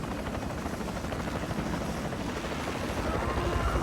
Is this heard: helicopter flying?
yes